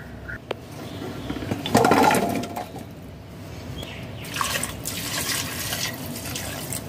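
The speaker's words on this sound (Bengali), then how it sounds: "জল দিয়ে দেব।" Water being poured into a pressure cooker before boiling jackfruit and potato, a splashing, gurgling stream rising to a peak then continuing more softly, close by with no talk.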